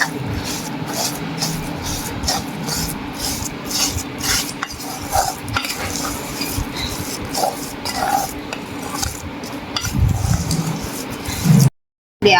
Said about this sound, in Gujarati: ગોળ નાખીને આપણે આમ સતત હલાવીને ગોળ મિક્સ કરી દેવાનો